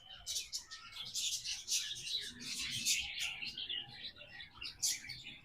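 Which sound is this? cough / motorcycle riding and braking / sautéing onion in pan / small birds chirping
small birds chirping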